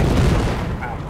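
Heavy artillery cannon fire in a WWI trench video game lands as a deep booming rumble that fades slowly, with someone talking over it.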